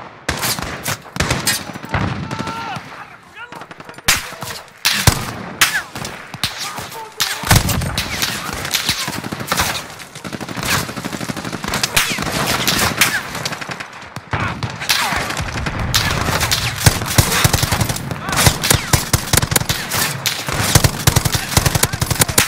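Gunfire in Call of Duty Modern Warfare during a co-op mission: dense machine-gun bursts and scattered single shots, loud and continuous, with brief lulls between heavy volleys.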